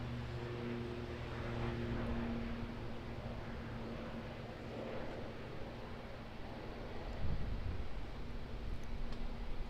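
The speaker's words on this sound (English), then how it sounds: "There's another ATR just heads off of runway 23 left." ATR turboprop departing Auckland Airport's runway 23 left: a steady distant drone and broadband roar with low humming tones, swelling slightly toward the end.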